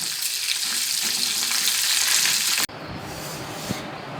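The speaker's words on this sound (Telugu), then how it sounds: "పీతలన్నీ ఈ విధంగా ఫ్రై చేసుకుని పక్కన పెట్టుకోవాలి." Crabs fry in hot oil with a loud, dense sizzle for a few seconds, then the sound cuts to a quieter room with faint clatter and a small knock, close by and without speech.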